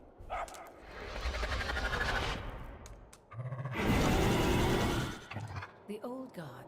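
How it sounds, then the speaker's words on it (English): Charlie, the companion dog in Marvel's Midnight Suns, gives a few loud barks and yips in bursts, mixed with busy game sounds and talking. "Why don't you try summoning your four-legged friend? Dog."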